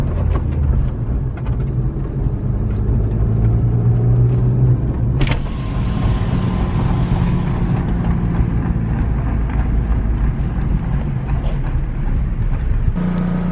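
Honda Civic Si 10th gen FC3 driving on new tires, a steady loud interior road rumble with low engine drone and a brief clunk midway.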